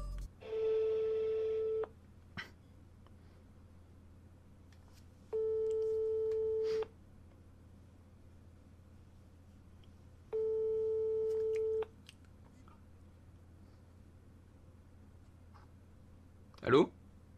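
Telephone ringback tone on an outgoing call, three steady electronic buzzes about one and a half seconds long with roughly four seconds of quiet between them over faint background hiss.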